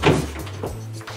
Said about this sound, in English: So we get the double doors that pop open.